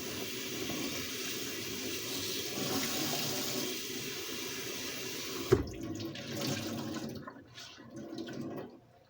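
Tap water runs steadily from a kitchen faucet to dampen a cloth while canning stewed tomatoes, a close, continuous splashing stream that cuts off abruptly partway through, leaving quieter trickles and handling noises.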